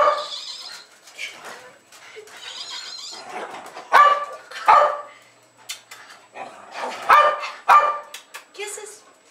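Two Jack Russell terriers bark excitedly indoors as they welcome someone home, loud sharp bursts of barks and yips coming in clusters, with people talking at times between them.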